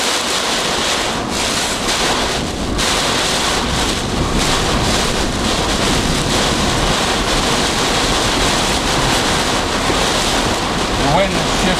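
Strong gusting wind and heavy rain batter a vehicle while driving, a dense, steady roar of broadband noise with rushing buffeting across the whole clip and no clear voices.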